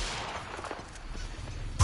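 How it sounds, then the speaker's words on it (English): Gunfire in the Killer Klowns From Outer Space video game, a rapid burst of overlapping shots forming a loud, steady crackle for about two seconds, ending in a sharper, heavier hit. "Oh, they're shooting me."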